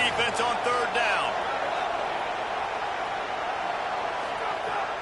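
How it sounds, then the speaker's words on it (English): A football stadium crowd roars steadily through a third-down defensive stand, a loud, sustained broadband wall of cheering that holds constant throughout, with a few brief whistles or shouts near the start. "Decibels rising as the crowd gets behind this defense on 3rd down."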